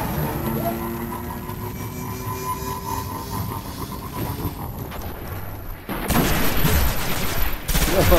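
Gunfire in Destiny multiplayer, with sniper and pulse rifle shots, crackles under steady ambient noise, then turns louder and denser near the end with rapid bursts close by.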